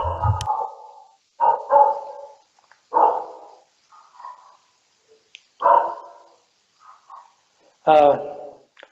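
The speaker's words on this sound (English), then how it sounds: "I'm sorry about the dog barking." A dog barks in repeated short bursts, roughly every one to two seconds, sounding a little distant and muffled, as if picked up through a call connection.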